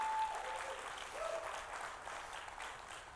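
An audience at a Presbyterian young adults' evening gathering applauds their leader with continuous, moderately distant clapping that holds steady throughout.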